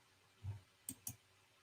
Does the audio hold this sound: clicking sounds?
yes